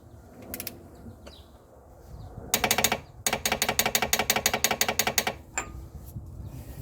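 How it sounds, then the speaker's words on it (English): Torque stick ratcheting a front wheel hub nut on a 2005 Toyota Corolla 1.8, sharp close clicking in a short burst then a longer even run of rapid pawl clicks. "I was going to use a torque stick just to temporarily tighten up the nut"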